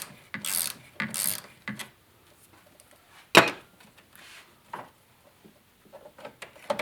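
Ratchet work loosening the 10 mm bolts on the bracket atop the alternator of a Ford 4.6L V8, heard as close bursts of clicking, a sharp metallic clank partway through, then quieter scattered clicks and handling.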